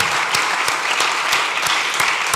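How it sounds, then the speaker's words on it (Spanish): Applause from a live audience at a poetry and music event, following a poem read aloud: dense, steady clapping, fairly close and loud, lasting a couple of seconds with no voices. "Yo creo que se merece un aplauso ese poema y cómo lo ha leído Carlos."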